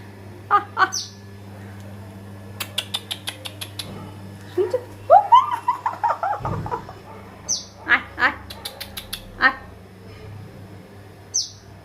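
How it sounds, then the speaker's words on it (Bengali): A trapped tailorbird chick gives repeated sharp, high chirps and squeaky calls, close by, in short irregular bursts with brief pauses and a few louder drawn-out cries. "আমি হঠাৎ দেখছি কোথায় এত আওয়াজ আসছে, মানে ছোট্ট পাখি, এটা ছানা"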